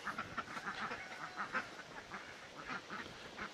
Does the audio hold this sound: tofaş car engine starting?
no